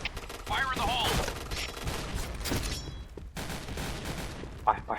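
Gunfire rattles in the Point Blank shooter game, a dense run of rapid shots over busy game sound with a brief pause midway, while a voice is faintly heard.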